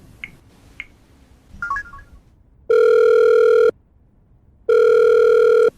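Several short dial tones tapped out on a telephone, followed by two long, loud ringback tones with a pause between them, heard alone with no talk.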